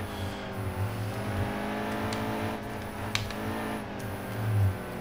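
NASCAR Cup race car engines at Watkins Glen in the NASCAR Heat 2 video game, with a steady close V8 drone that shifts pitch through gear changes and swells near the end.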